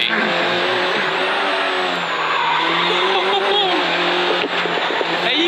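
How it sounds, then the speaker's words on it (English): Wheels of a rally car on gravel tyres spin and scrabble off the start line, a loud, close, sustained engine roar with rising rev tones over a constant gravelly hiss, with a voice heard faintly underneath. "Wheels spinning off the line on his gravel tyres."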